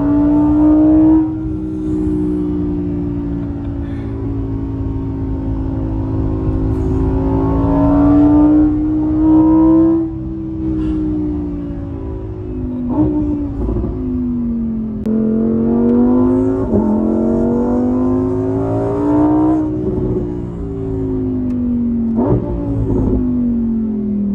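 A Lamborghini Huracán EVO Spyder with its naturally aspirated V10 revving and pulling hard, a loud, close engine howl rising and falling in pitch through repeated accelerations and gear changes, alone without talk.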